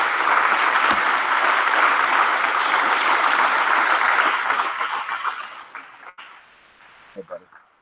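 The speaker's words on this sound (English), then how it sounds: "Can we have a round of applause for Brian?" A room of people at a recovery meeting bursts into warm applause, loud and full at first, then thinning out and trailing off into scattered claps and a few voices near the end.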